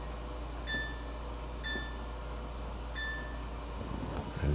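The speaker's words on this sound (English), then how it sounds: "Set the timer for 15 minutes." A kitchen timer being set while making a keto cheesecake, three short, clear electronic beeps spaced about a second apart over a quiet room hum.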